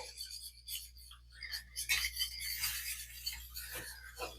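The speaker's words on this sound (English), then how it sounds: "Grab a whisk here and start working that in." Broth being whisked into a creamy mustard sauce with cream cheese for lamb kidney, giving a steady scraping, swishing rasp of a whisk against the pan that repeats in quick strokes throughout, close and moderately quiet.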